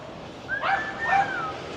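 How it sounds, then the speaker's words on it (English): Dogs at a Barcelona market giving two short, high whimpering yips close by over a low murmur of background street noise. "Look at the doggies here."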